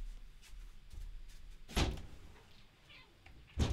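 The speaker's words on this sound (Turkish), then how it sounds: "Kedi kapıyı zorluyor hemen geliyorum" A cat pushes and forces at a door, producing a couple of sharp knocks and rattles of the door against its frame, fairly faint, with quiet room noise between the bumps.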